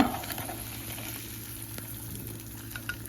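Food sizzling steadily in a hot pan while cooking breakfast for dinner, a quiet, even frying hiss with faint crackles and no voices.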